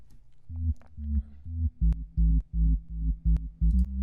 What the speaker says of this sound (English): And you hear it clicking a little bit.